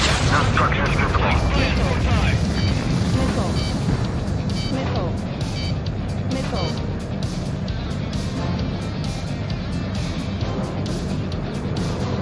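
A bomb detonating in the combat flight game Ace Combat 7, a deep sustained rumble under dense jet and weapon noise that fills the whole stretch, with radio voices talking over it.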